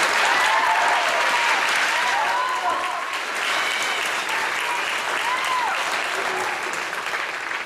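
A graduation ceremony audience claps steadily for Oklahoma Honor Society students, dense sustained applause filling a large hall with occasional faint whoops above it.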